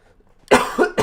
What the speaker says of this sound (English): Hopefully those coughs aren't too loud.